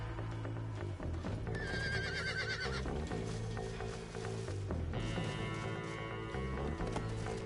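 Horse in the Red Dead Redemption video game giving a neigh over layered game music and ambience, with hoof sounds blended into the mix.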